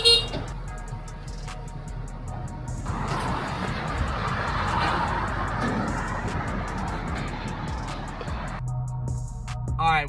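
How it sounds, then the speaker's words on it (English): A custom Denali truck on JTX Forged 24x14 wheels starts cold, its engine catching and holding a loud, steady roar before cutting back down to a lower idle. "Alright, give us a cold start."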